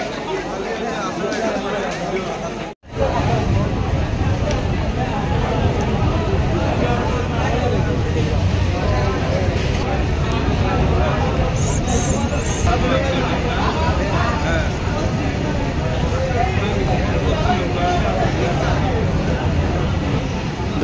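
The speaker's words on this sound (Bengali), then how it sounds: "দেখেন একবারে স্টেশনে, কামাখ্যা স্টেশনে ধরে না লোক, এত লোক" A dense crowd packed into Kamakhya railway station in Assam, a constant loud babble of many voices with a brief dropout near the start, then an unbroken wall of chatter.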